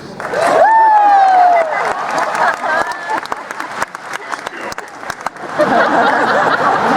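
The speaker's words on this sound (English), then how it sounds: "I think I can always get applause when I quote Patrick." Convention audience at a Star Trek event bursts into loud, close applause with some cheering and laughter, clapping dense at first, thinning briefly, then swelling again, while voices talk over it.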